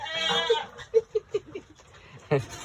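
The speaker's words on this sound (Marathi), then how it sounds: "कशी करते बकरी." A baby goat gives a quick run of short, nasal bleats close by, spaced evenly, after a voice speaks at the start, with one more bleat or cry shortly after.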